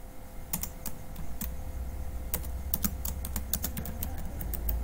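Keystrokes on a computer keyboard while a command is typed into a Linux terminal on Ubuntu 20.04, a quick irregular run of crisp close clicks over a low steady hum, with no talking.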